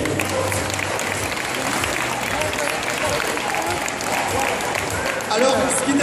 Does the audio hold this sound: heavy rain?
no